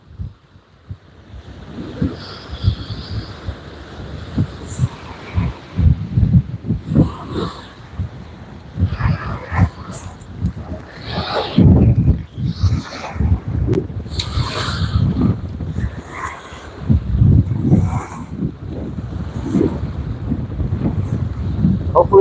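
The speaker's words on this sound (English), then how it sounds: "Hopefully that wind dies down here pretty soon." Strong wind over choppy water on Cochiti Lake in New Mexico, heard from a fishing boat as gusty buffeting and splashing that rises and falls throughout.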